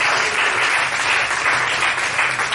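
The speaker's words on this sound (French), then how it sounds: "Acclamez le Seigneur pour vous-même." A church congregation applauding the Lord, dense, sustained clapping from a large crowd that fills the room continuously without a break.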